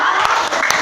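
Classroom of students performing the 'tepuk hebat' rhythmic clapping chant, a brief burst of several sharp claps amid crowd voices, loud and close.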